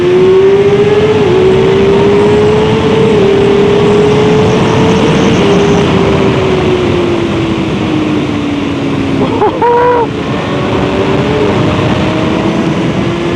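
Kawasaki Ninja motorcycle engine running loud and steady at high revs, the pitch slowly rising and falling with short throttle blips, close by over wind noise, heard alone.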